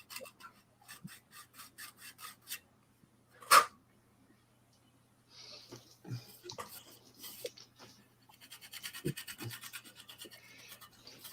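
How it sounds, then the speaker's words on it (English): Paint carefully scraped off a panel of a Routemaster bus model, heard as short rhythmic rubbing strokes in bursts close up, with one sharp knock and a later run of faster scraping. "All I'm doing is carefully just scraping the paint off."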